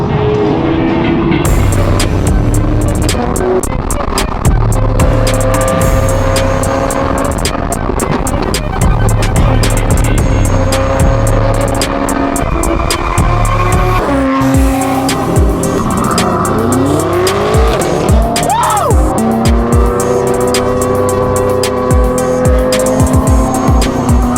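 A Hyundai Elantra N with a valvetronic exhaust drives loudly and up close on a supercar rally, its engine droning and revving, with a rising rev sweep, sharp tire noise and exhaust pops, and no talking.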